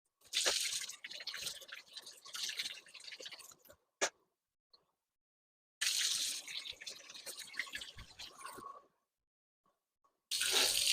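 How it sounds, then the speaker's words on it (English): Running water from a detachable shower head gushes in bursts, stopping and starting three times with silent gaps and a couple of sharp clicks between. "I'm going to turn this water off real quick."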